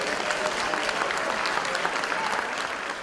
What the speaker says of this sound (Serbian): Možete ga pozdraviti zasluženim aplauzom.